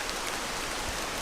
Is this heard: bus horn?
no